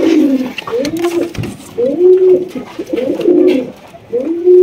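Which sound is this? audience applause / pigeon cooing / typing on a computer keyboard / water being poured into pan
pigeon cooing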